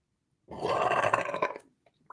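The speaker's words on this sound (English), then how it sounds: "I'll do nothing but belch." One deep, drawn-out human belch, loud and close, lasting about a second with a brief quiet tail, while no one speaks.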